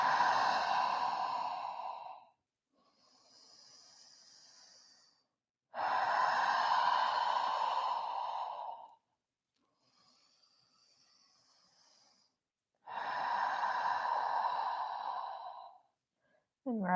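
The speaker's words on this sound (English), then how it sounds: "Open mouth exhales here." Three long, loud open-mouth exhales during a yoga session, each a breathy whoosh lasting a couple of seconds, separated by quieter inhales, close and alone.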